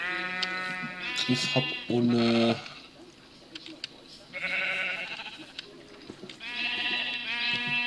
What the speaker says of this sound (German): da sind ein paar Schafe direkt am Zaun außerhalb